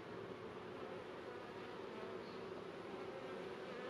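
Honey bee swarm clustered on a branch, giving a steady, dense buzzing hum that stays even and unbroken throughout, fairly faint and heard alone with no voices.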